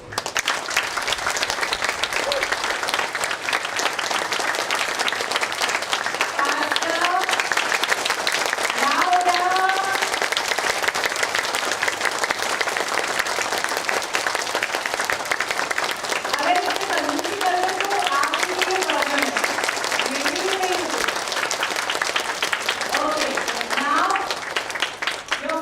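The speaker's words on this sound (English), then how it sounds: "Start clapping." A group claps hands continuously and loudly during an energizing exercise session, dense sustained applause with voices rising over it at times.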